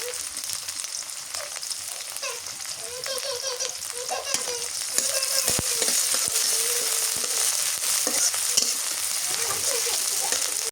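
Chopped onion and green chillies frying in a village kitchen for a fish curry with broccoli, a busy crackling sizzle with frequent scraping stirs, while voices murmur faintly in the background.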